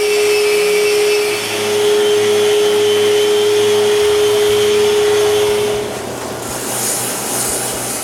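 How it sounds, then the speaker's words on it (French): Power sander running steadily on the tops of wooden step stools after epoxy was scraped off, a continuous loud whine with a steady tone that stops near the end, leaving softer rustling noise. "Puis je ressabre encore le dessus des marchepieds."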